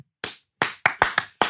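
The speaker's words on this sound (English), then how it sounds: "Clap it up." Six sharp, close hand claps in an uneven rhythm, each ringing briefly with a bit of room echo and a short gap of silence before the first.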